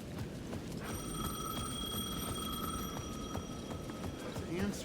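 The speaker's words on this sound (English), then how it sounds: "The payphone at the edge of the plaza was ringing again." A payphone at the edge of a plaza in the game Alan Wake 2 rings with a bright electric bell tone for several seconds, heard faintly over a low ambient rumble.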